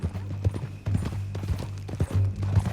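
Horse hooves clip-clop at a steady walking rhythm in Red Dead Redemption 2, close and clear, with a low rumble beneath and no speech.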